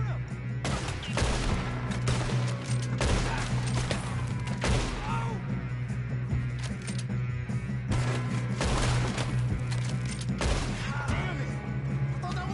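Gunfire in the Western video game Red Dead Redemption 2: a rapid run of loud shots and bursts, repeated across the whole stretch over a steady low engine-like hum, with shouting voices mixed in.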